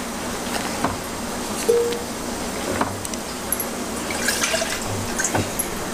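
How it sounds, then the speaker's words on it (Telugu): Water is poured into a pot of thick sambar, giving intermittent splashing and dripping with small liquid bursts over a quiet kitchen background. "కొద్దిగా నీళ్ళు వేసుకుందాము"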